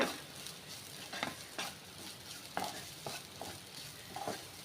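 Cauliflower pieces with torn curry leaves fry in a pan for a spicy pepper varuval, a soft sizzle broken by several light scraping stirs at irregular intervals, fairly quiet and close, no talking.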